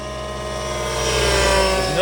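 A Miniature Aircraft 1005 gas-powered RC helicopter flies nearby with a steady buzzing engine whine and rotor drone that rises in pitch toward the end, fairly loud and continuous.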